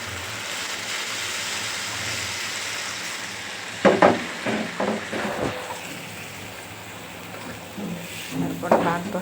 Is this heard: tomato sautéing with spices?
yes